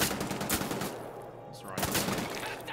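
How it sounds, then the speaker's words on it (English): Gunfire in the video game Wolfenstein: The Old Blood, with loud, close bursts of rapid repeated shots layered over dense game noise. "He shot his buddy in the back."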